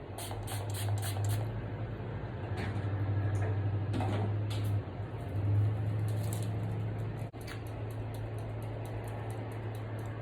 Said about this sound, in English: Before I clean this up, I'm going to go into some setting spray.